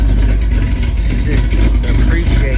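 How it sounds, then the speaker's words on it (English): A small-block V8 in an El Camino idles and runs loud and close, a heavy continuous low rumble with uneven throb throughout, with someone talking over it. "Just appreciate the sound of this small block, yo."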